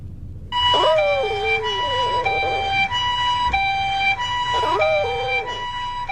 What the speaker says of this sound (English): Of Gotaro the Chihuahua howling her little brains out at an ambulance.